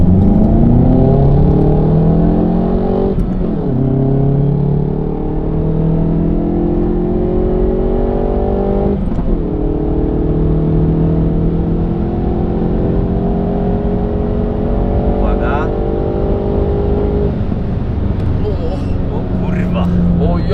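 A car in sport mode accelerates hard, its engine note climbing repeatedly through the gears with brief dips at each shift, loud and close from inside the cabin, while someone talks over it.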